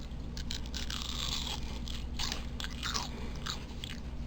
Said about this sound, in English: Crispy, crunchy onion rings, just like you like them.